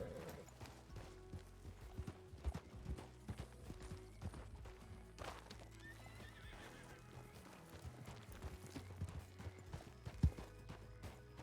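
A horse in the western roleplay game WildRP clops its hooves and neighs, quiet and close, with scattered sharp knocks and shifting movement between the steps.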